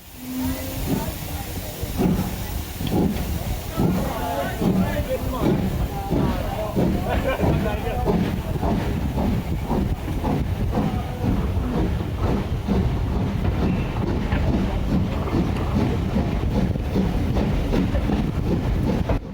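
A steam locomotive on the Severn Valley Railway during a winter steam gala chuffs and hisses steadily, with rhythmic rail clatter, loud and sustained, as a voice talks over it.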